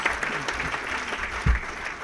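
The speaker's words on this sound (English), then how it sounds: "Let's give him a round of applause" Audience at the Jewish Labor Committee's annual human rights awards event applauding for honoree Stuart Applebaum, a full, close wash of clapping with one sharp thump partway through.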